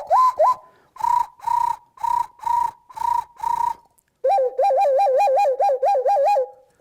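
A Ukrainian zozulka clay whistle imitates a wild pigeon or turtle dove: a row of separate cooing hoots, then a quicker warbling trill of rising notes, loud and close with no voices.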